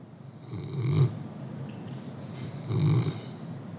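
A sleeping man snores, two slow, deep, rasping breaths spaced a couple of seconds apart, close and fairly quiet.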